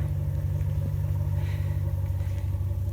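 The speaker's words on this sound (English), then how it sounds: "I got my truck running to charge my other phone" A pickup truck sits idling outdoors near a garden after a storm, its engine giving a steady, loud low rumble that holds constant throughout with no talking.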